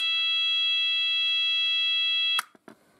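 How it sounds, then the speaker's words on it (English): A Fulleon call point triggering a Roshni sounder gives a loud, steady continuous electronic alarm tone that holds unbroken for over two seconds, then cuts off abruptly and leaves a couple of faint clicks and handling knocks. "the red LED illuminated and the sounder was on a continuous tone"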